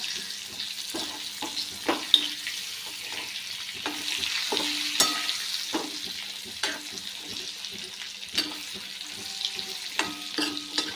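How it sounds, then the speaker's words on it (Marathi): Stuffed brinjal with stems on frying in a pan, a continuous close sizzle punctuated by repeated spoon-on-pan scrapes and knocks at an uneven rhythm, with no talking. "तर वांगी एक पाच मिनटं आपण चांगली तळून घेऊया म्हणजे परतून घेऊया चांगली"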